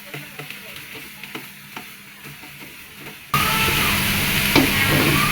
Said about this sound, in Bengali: আস্তে আস্তে এই যে নেড়ে নেড়ে নেড়ে নেড়ে মিক্স করে নিচ্ছি